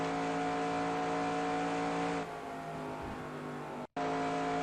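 Race car engine in NASCAR Racing 2002 at Indianapolis Motor Speedway, a loud sustained high-revving drone that eases briefly, then cuts out for an instant before resuming at full throttle.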